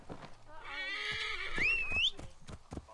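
A horse in the Assassin's Creed Origins game gives a high, wavering whinny over soft hoof clops, while someone talks throughout.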